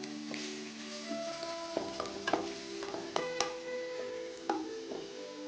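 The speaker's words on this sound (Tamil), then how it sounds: "கார்லிக், அதுக்கப்புறம் ஜிஞ்சர், ஆனியன், இது 3 போட்டு சாத்தே பண்ணிடலாம்" Garlic, ginger and onion sautéing in a pan, with quiet frying under sharp, irregular clacks of a spatula against the pan, close and fairly soft.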